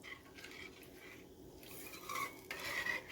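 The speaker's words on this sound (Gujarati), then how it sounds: "એ ઉકળે ત્યાં સુધી એમાં ચમચો ચલાવતા રહેવાનું." A spoon stirs a spiced fajeto mixture in a pot on the stove, giving a steady, close scraping and swishing with a few brighter metallic scrapes near the end. No voices are heard.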